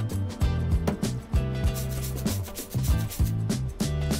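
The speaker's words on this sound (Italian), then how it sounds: "Strofinare, strofinare! Puliamo tutta la pelle!" Body scrub rubbed over skin during a morning shower, a series of rhythmic, close scratchy rubbing strokes repeating in quick bursts.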